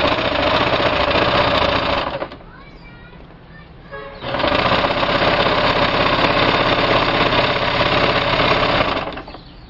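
A sewing machine seams the sides of an off-shoulder mermaid dress, whirring steadily up close for a couple of seconds, pausing briefly, then running again in a long continuous burst.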